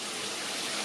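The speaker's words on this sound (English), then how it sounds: "So like a waterfall shower." A giant rain shower head with LED lights pours a dense, even hiss of falling water, steady and loud across the whole moment with no voices.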